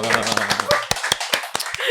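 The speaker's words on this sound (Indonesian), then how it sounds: "Tepuk tangan" A handful of sharp, separate hand claps from a small group of alumni in a podcast setting, heard close and under continuing speech.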